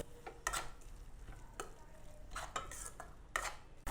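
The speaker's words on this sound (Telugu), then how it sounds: "ఇదంతా కలిసేలా ఒకసారి కలుపుకుందాం" Fenugreek leaves are stirred in a pan for a tomato curry, with scattered scraping strokes and soft clinks over a quiet frying bed, fairly close and moderately loud.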